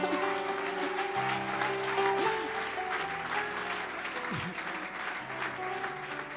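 A church congregation applauding to acclaim God, sustained clapping from a crowd filling the room, with music playing underneath.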